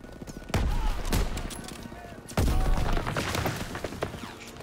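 Bursts of heavy machine-gun and rifle fire crack through a Call of Duty WW2 beach battle, two loud volleys with scattered shots between, over background war noise.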